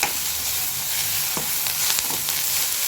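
Pirandai, coriander and curry leaves sauté in a pan for chutney, giving a steady, close sizzle broken by a few soft stirring scrapes, with no talking.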